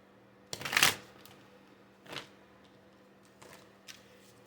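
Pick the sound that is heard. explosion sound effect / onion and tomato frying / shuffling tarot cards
shuffling tarot cards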